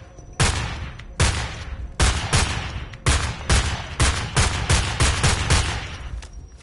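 Gunfire from the video game Homefront The Revolution: loud single shots and short bursts, roughly one every second or so, growing into closer-spaced volleys toward the end, with no talking.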